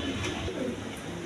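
Pigeons for sale coo softly in low, murmuring bursts at a dense market or loft, close but faint beneath a wash of background noise.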